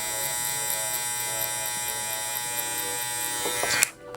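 Electric hair clippers buzz steadily and close while cutting hair during a haircut, a constant tonal hum that ends with a few brief rattles and a sudden stop.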